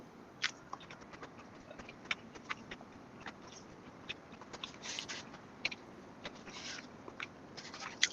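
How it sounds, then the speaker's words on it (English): Faint, wet clicks and crunches come as someone chews food close to a microphone. They are scattered and uneven over a quiet background hiss, and no talk is heard. "sorry if you can hear me chewing"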